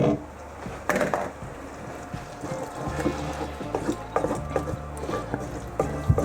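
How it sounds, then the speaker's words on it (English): Chicken curry stirred in a pot for a restaurant-style Asian curry sauce with garlic and chilli, giving soft scraping and sloshing clatter with intermittent knocks of the spoon against the pan, close and moderately quiet. "Let's just give that a stir first."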